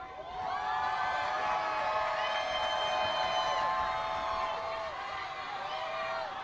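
A high school football crowd in the stands at an Oaks Christian versus J W North game roars and cheers steadily, a broad wash of voices with whoops rising over it.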